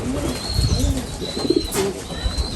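Soft, low pigeon coos repeat in short phrases, close by, with faint chirps and a steady background hum.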